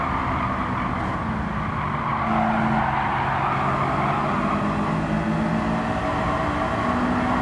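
A Honda S2000 race car drives a time trial at Grand Valley Highway in Gran Turismo 7, its engine droning steadily and rising in pitch through the gears, with some tyre noise, continuous and close.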